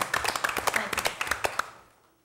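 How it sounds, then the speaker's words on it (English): An audience at a Hampton school board meeting gives a final round of applause: a short burst of sparse, fairly close hand claps that thins out and fades to quiet within about two seconds. "Let's have one last round of applause as this ends our recognition."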